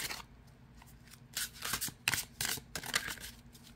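Large oversized playing cards being shuffled by hand, a run of crisp riffling and sliding bursts that come in quick clusters, close up, with no talking.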